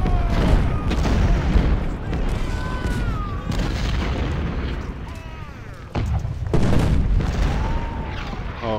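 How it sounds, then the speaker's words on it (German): Cannon fire in the Civil War strategy game Ultimate General: Civil War, from a Gaines Mill or Malvern Hill battle, makes a steady rumble of overlapping booms and artillery blasts, with faint voices mixed into the din. "Jetzt wissen wir, dass da Kanonen sind."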